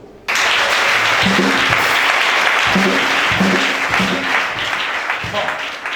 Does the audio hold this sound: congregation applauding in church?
yes